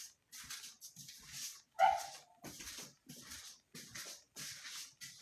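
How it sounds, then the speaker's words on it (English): A dog barks and whimpers at a door, giving short repeated yelps and whines spread across the clip, close and moderately loud, with a person nearby and no clear speech. "Why you always barking like you running something, man?"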